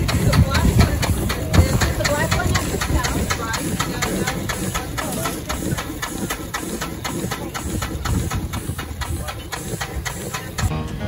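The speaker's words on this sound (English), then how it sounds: "This is a little stationary steam engine that, in this case, is running a printing press." A small stationary steam engine drives a printing press at an outdoor steam fair, giving a fast, even rhythmic chuffing and clatter over a constant steam hiss, close and loud, with voices talking nearby.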